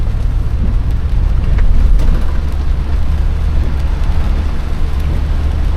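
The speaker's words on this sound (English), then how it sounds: "I'll go ahead and give her a little bit of gas" A 1978 Lincoln Continental convertible accelerating on the road, a low steady engine rumble with wind and road noise as the transmission shifts, loud and continuous with no talking.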